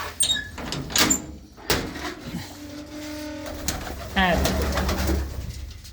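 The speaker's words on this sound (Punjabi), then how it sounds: "ਇਹਨਾਂ ਦੇ ਅੰਦਰ ਬੈਠੇ ਕਬੂਤਰ" Pigeons give a drawn-out call and soft coos among clattering knocks, like a door or cage moving, with brief voices at the start.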